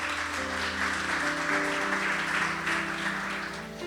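A church congregation applauds steadily for the Lord during a Spanish-language worship service, the clapping continuous and fairly loud with sustained musical tones playing underneath.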